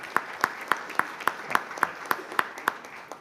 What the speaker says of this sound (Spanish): Este aplauso para usted.